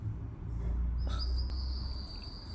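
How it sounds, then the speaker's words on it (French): A small bird outdoors on a summer day gives a thin, high chirp and then holds a long clear whistled note, faint and distant over a low steady background rumble. "T'entends l'oiseau?"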